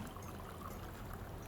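Water pours into a glass in a kitchen, a soft steady trickling stream, fairly quiet and continuous with no talk.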